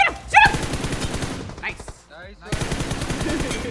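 Video game gunfire rattles in a rapid automatic burst, stops briefly, then resumes in steady repeated shots, with a brief voice in the game mix.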